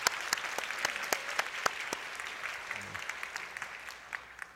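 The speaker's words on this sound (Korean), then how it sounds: "어제 수고하신 분들께 또 박수 드리겠습니다." A church congregation claps together during a Sunday service, a soft, distant wash of applause with a few sharper individual claps standing out, slowly fading toward the end.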